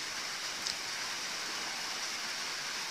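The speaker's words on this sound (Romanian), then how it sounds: "De vreo jumătate de oră plouă așa curat, fără tunete, fără fulgere." Steady rain in Vrancea without thunder, a constant close hiss of drops on the ground and nearby surfaces, with one brief brighter patter in the first second.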